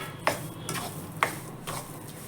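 Gond cooking in desi ghee, a soft low sizzle with a few distinct spoon scrapes and taps as the sticky mixture is stirred.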